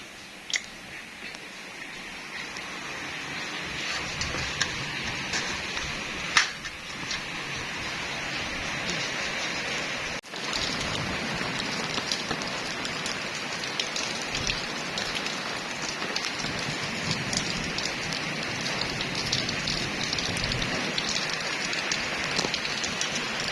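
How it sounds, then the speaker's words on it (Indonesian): Steady rain falls outdoors near a home kitchen, a dense, even hiss of drops hitting surfaces that continues throughout with occasional louder taps. "Itu hujan sekarang."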